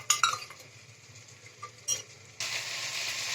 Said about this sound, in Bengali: এবার আমি মশলাগুলোর জলটা এতে দিয়ে দিলাম